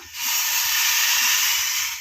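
A steady, loud hiss of water poured onto hot jaggery in a pan, rising quickly and sustained for about two seconds with no voices.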